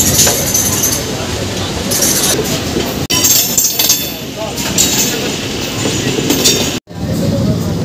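Several local trains pull away together on a suburban line near Howrah on the Amta route at night, with loud continuous rumbling, rattling wagons and clinking metal, briefly interrupted twice.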